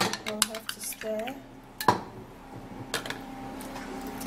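A drink stirred in a glass, with light clinks and scrapes of a spoon against glass and a sharper knock midway, faint and close, broken up by brief vocal sounds.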